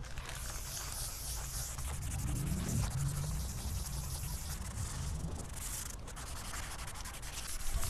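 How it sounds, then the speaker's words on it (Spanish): Steady abrasive rubbing of a finishing sponge sanding the paint on a Peugeot 307 HDI, continuous and close, with a slight swell in intensity midway. "lo que voy a hacer ahora es lijarlo con la esponja esta de acabado."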